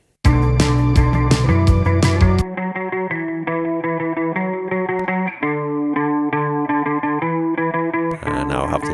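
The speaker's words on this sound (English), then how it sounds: "I've put on a dotted eighth note Echo Boy." A lo-fi indie pop part run through a dotted eighth note Echo Boy delay, with plucked tonal notes repeating in spacey echoes; a louder, denser chord burst opens and another bright swell enters near the end.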